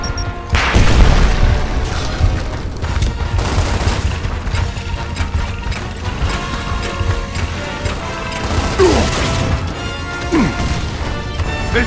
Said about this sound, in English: Form up! Incoming frag!